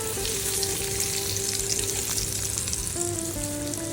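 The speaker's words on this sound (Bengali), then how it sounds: "সবগুলো আলুই দিয়ে ভালোভাবে আরও 5 মিনিট কষে নেব মাংসটা" Meat sizzles steadily in a hot pan as fried potatoes are stirred in for biryani. The sizzle is loud, close and continuous, with faint stirring and music beneath it.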